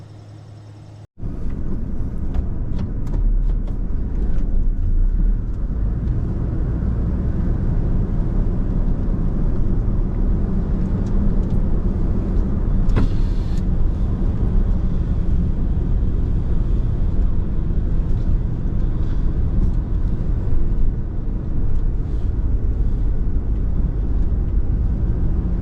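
A car drives out of Zion Canyon National Park, a steady low road rumble and engine hum with wind buffeting, heard from inside, continuous and fairly loud for the whole stretch after a brief quiet start.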